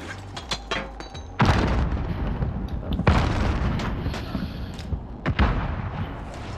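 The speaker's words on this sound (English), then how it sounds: "Frag out!" A frag grenade detonates in Call of Duty: Modern Warfare with a deep, heavy boom, followed by further thuds and blasts, all close and loud amid battle noise.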